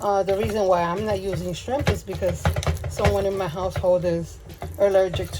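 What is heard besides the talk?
No distinct noise like a dog, phone or traffic.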